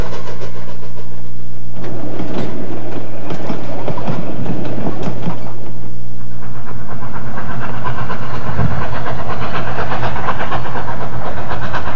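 A historic narrow gauge steam train rolls through the Colorado mountains, loud and close, with steady clickety-clack of wheels on rail, hissing steam and heavy mechanical rumble shifting as the cars sway.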